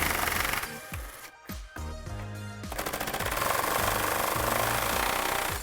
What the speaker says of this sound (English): remove the three 10mm bolts that hold this airbox into place